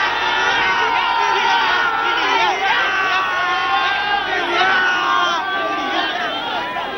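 A dense crowd of Indian cricket fans cheers and shouts together at a T20 event, a loud continuous roar of voices close by.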